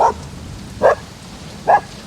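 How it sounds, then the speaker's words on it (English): A dog barks three times in a video game, evenly spaced short barks about a second apart, moderately loud and alone against a faint outdoor ambience near the woods. "Is that a dog? Poor lost lonesome dog coming from the woods."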